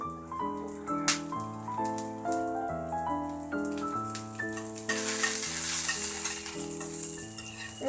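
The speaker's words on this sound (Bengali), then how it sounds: "রসুন কুচিটাকে এখন আমি একটু ফ্রাই করে নিব।" Chopped garlic frying in mustard oil for a Kalmi shaak dish, a steady close sizzle running throughout, louder and brighter toward the end, with no talking, though the picture is dominated by tonal background music.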